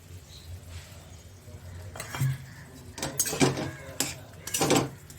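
Hilsa fish heads and mustard being stirred in a cooking pan, with a few distinct clinks and scrapes of a utensil against the metal pan over a soft background hiss, close and moderately loud.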